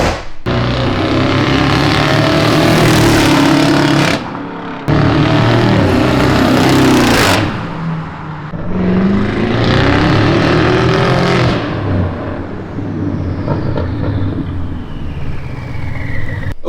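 A V8-swapped BMW 550i roars loudly through repeated hard revs and accelerations, with brief cuts between pulls and the engine note climbing and dropping before it fades away at the end.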